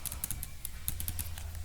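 Typing on a computer keyboard while entering an Excel formula: a quick, uneven run of light plastic key clicks, close and clear, with no talking.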